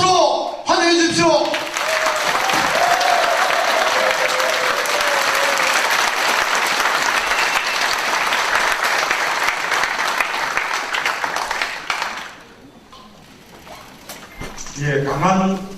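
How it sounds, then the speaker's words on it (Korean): An audience gives sustained, loud applause to welcome a speaker at a political policy announcement, starting right after a brief voice and fading near the end before talk resumes. "뜨거운 박수로 환영해 주십시오"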